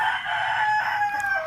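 Chickens and a rooster in a farm coop, kept beside Muscovy ducks, give a loud, close crow with steady clucking throughout.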